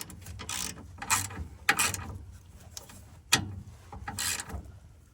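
A ratchet with a 13 mm socket tightens mount bolts in several short bursts of quick clicking, close by, separated by brief pauses and light metallic handling noise.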